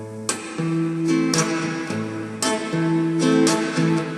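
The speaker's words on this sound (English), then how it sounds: "if you can add muting as well to those strokes" Acoustic guitar strummed in a Hindi song rhythm, bright chord strokes broken by short muted chops, several strums in a steady pattern, close and clear with no talking.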